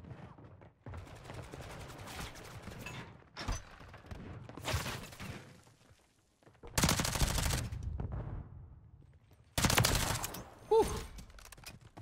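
Bursts of LACHMANN Sub submachine gun fire in Call of Duty MW3, several loud sustained volleys separated by quieter stretches of other game noise, with a brief impact or shatter near the end.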